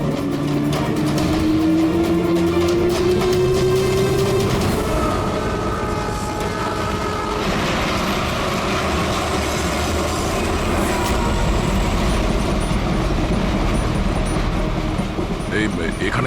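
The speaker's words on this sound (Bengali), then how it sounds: "চলো, ট্রেন ছেড়ে দিল, তাড়াতাড়ি" A passenger train pulls out of a station with a rising engine tone, rolling clatter and metallic wheel squeal, loud and close, while people talk over it.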